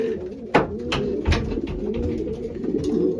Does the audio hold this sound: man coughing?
no